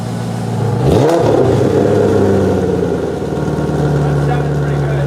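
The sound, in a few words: V8 BMW E30 engine revving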